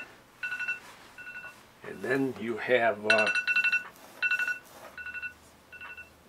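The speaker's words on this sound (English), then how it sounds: "my phone's going off, there we go." A mobile phone rings out in a series of short, bright electronic tone bursts, repeating rhythmically while someone speaks over them during rafter layout for a pole building.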